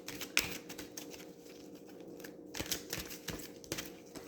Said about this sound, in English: I'm gonna shuffle and stop